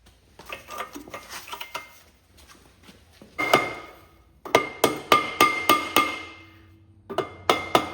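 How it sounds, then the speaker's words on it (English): A hammer taps on the metal muffler of a Cub Cadet 782 lawn tractor with a Kohler KT17 engine, a series of sharp ringing metallic strikes, some in quick even runs, close and alone. "Now try not to hit too hard on the back side here of the muffler"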